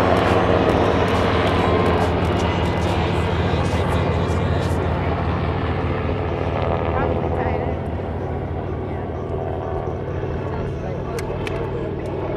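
Helicopter at an air show lifting off with a patient aboard: a loud, steady rotor and engine roar fills the scene, easing slightly toward the end, with a voice talking over it.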